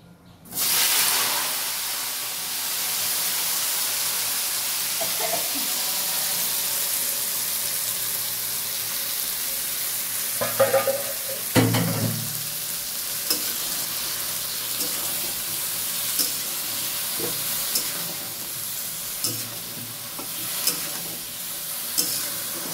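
Food fries in a pan with a steady loud sizzle and hiss, broken by occasional scrapes and clinks of stirring, with no talking over it.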